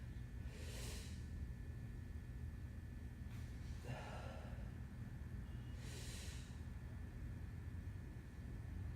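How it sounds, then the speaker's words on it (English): Deep, deliberate breaths drawn and let out before a clean deadlift during weightlifting training, three slow gusts spaced a few seconds apart over a low background hum. "So I'm going to take my time and breathe."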